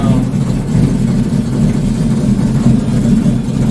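A 1972 Barracuda's 340 V8 with an oversized camshaft running close by, a loud, steady, deep rumbling idle with a slightly uneven throb and no talk.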